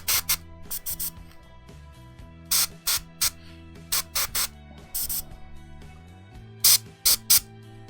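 An airbrush sprays paint onto an ogre model in short, repeated hissing bursts, each a second or less, separated by quiet gaps with a faint steady background hum.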